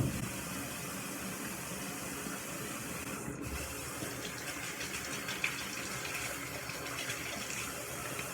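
Warm water runs steadily from a tap into a sink, a continuous close hiss and splash that barely changes.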